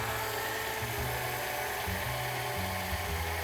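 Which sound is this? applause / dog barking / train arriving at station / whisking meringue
whisking meringue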